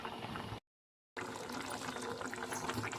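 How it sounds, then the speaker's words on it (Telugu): Chicken curry boiling in a pot, a steady dense bubbling and hiss close by, cut by a brief silent gap, with no one talking. "ఇక్కడైతే చికెన్ కర్రీ ఉడుకుతుంది"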